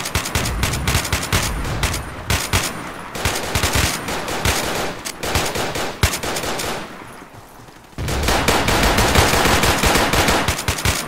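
AK-74 automatic fire in a Battlefield 2 Nightfall 2048 mod, with loud, close, rapid bursts that stop briefly for a short quiet gap before the firing resumes.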